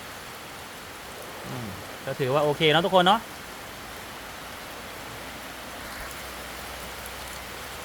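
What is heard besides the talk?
heavy rain falling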